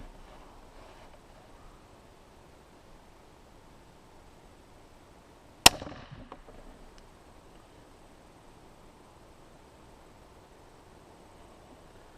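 A Centerpoint Patriot 425 crossbow fires once outdoors with a single sharp, loud snap and a brief rattling tail. Faint wind and rustling hiss fill the quiet before and after the shot.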